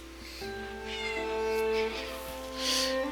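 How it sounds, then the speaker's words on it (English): A cat in the Pillars of Eternity video game gives a few drawn-out, tonal meows in sequence, clear and close over a quiet background, with no talking. "Oh, poor bored cat."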